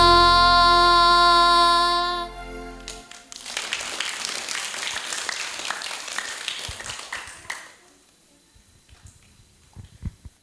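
Applause from an audience at a live school storytelling event at a state primary school in Gunungsitoli, a dense patter of many hands clapping that rises out of a sustained music chord and fades into scattered claps.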